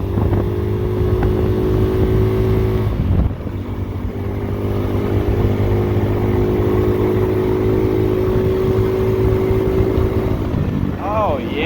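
An X-Pro 150cc motorcycle fitted with an upgraded exhaust and air filter drones steadily under acceleration, a loud close engine note holding a constant pitch with a brief dip around three seconds.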